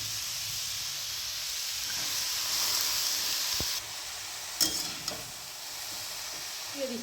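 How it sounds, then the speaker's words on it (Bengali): Cabbage goes into a pan of butter and sautéing vegetables for a mushroom and winter-vegetable soup, giving a steady steamy hiss and sizzle that drops in level partway, with a few utensil clinks and stirring scrapes near the end. "এবার আমি বাঁধাকপিটা দিয়ে দিচ্ছি"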